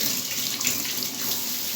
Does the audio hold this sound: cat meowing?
no